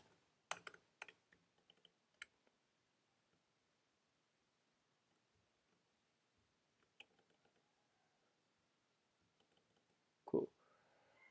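Typing on a computer keyboard while coding a React chat app: quiet bursts of clicky keystrokes early on, then sparse taps through a long near-silent stretch and a louder clatter near the end, with no talking.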